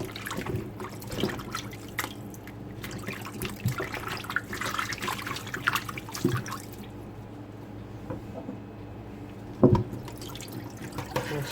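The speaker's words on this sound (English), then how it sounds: "I'm going to rinse this again thoroughly" Water drips and trickles as oxtail is rinsed in water with vinegar at a kitchen sink, with soft splashes and a sharper slosh near the end, close by and without talk.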